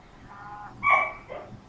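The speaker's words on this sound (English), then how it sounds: "There's my puppy." A puppy lets out a single sharp, fairly close bark, followed by a softer yip, in an otherwise quiet indoor room with no talking.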